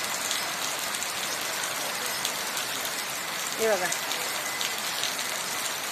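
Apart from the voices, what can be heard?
heavy monsoon rain pouring down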